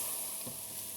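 Onions, garlic and ginger frying in a pan, giving a steady, fairly quiet sizzle with one brief stir or scrape partway through.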